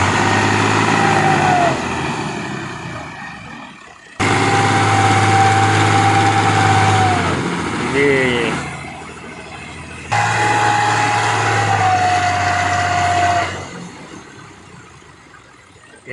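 A Ghazi 65hp tractor engine labours while pulling a heavily loaded trolley up a rural Punjab incline, a loud, steady drone that cuts off and restarts in three long bursts.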